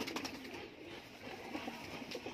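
A teddy pigeon coos softly at close range in a quiet, brief burst with faint low murmuring behind it.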